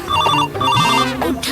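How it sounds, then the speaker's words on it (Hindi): A phone rings with an incoming call, a loud electronic ringtone melody repeating in short bursts, close by, with people talking around it. "फोन आवा है।"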